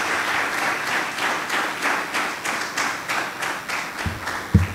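A church congregation applauds steadily, the clapping swelling in rhythmic waves, with a low thump near the end.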